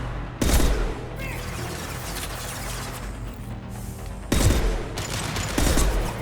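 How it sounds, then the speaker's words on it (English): High-impact gunshots in the video game Mass Effect 2, loud close bursts of gunfire with a sharp blast near the start and another volley later, sustained noisy firing between them, no talk. "Firing a high impact shot"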